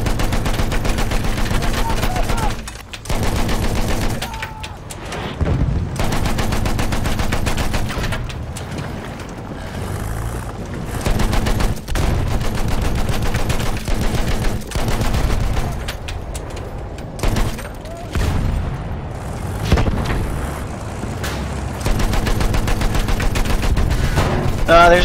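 Gunfire in the video game Battlefield 1, with loud, close bursts of automatic and rifle fire that come in long stretches broken by brief pauses, alongside heavy rumbling booms over about twenty-five seconds.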